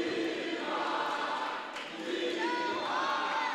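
Basketball crowd at a school game cheering and shouting in a gym, a steady roar of many voices throughout with rising yells near the end.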